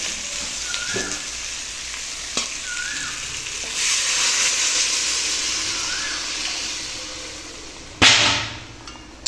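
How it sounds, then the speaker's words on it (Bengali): Water is poured into a frying curry of papaya, potato and koi fish, raising a broad hissing sizzle that swells and fades. A sharp, loud burst of steam and spatter comes near the end. "এইবার আমি এর মধ্যে পরিমাণ মতো জল ঢেলে দেবো।"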